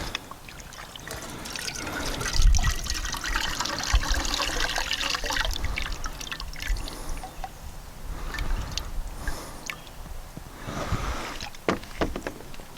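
Water poured from a container into a vessel during an isobutane stove adapter test, a steady splashing trickle that swells early on and continues with uneven gurgles for about thirteen seconds, close by, with no talking.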